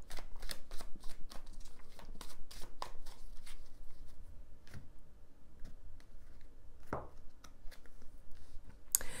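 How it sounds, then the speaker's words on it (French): Tarot cards handled and laid on a table, giving a run of quick close flicks and soft taps followed by sparser card slaps, with no talking. "Je vais rajouter une carte."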